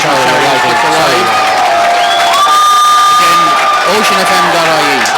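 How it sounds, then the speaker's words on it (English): Crowd cheering and applauding at the 2016 Sligo/Leitrim general election count as a candidate arrives, a dense roar with whoops, loud and continuous throughout, with tonal electronic tones briefly audible above it. "the applause is for Mark McSharry arriving."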